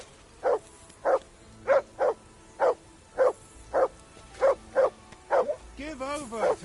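A dog barks in a regular series, about a dozen sharp, evenly spaced woofs from close by, before a voice begins speaking at the end.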